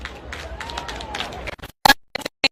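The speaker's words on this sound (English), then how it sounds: "Shall we give them a round of applause?" A crowd applauds at an Independence Day event after a performance by a military physical training school, a broad rustling clap under a murmur of voices that cuts off abruptly into scattered sharp noises.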